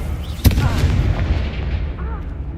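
A Confringo explosive spell in Hogwarts Legacy bursts with a sharp, loud boom that rolls into a long rumbling tail and slowly fades, set against a steady bed of game noise.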